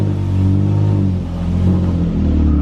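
A car engine revving up as it pulls away in first gear after a clutch repair, with a loud, steady low rumble that rises and falls slightly, close by with no talking.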